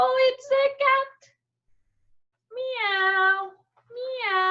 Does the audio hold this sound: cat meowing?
yes